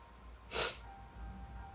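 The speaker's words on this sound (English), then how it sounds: "I just need to sneeze." A single short, sharp sneeze bursts out once against quiet background hum.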